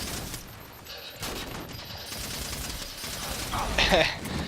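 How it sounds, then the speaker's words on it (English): Gunfire and grenade blasts in the Halo 4 video game, scattered shots and bursts building to a louder explosion near the end, under a commentator's talk. "So SFLP sitting there shooting rock, throwing grenades."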